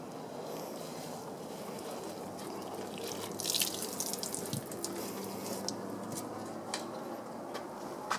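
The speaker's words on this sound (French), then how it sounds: "là tu rinces, très important" Water rinses over a car body during a professional shampoo wash, a steady close hiss of spray and splashing with occasional drips and crackles, continuous and alone.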